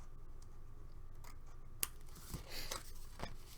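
Scissors trim card paper during cardmaking in a few quick, crisp snips spread over a couple of seconds, close up in an otherwise quiet room.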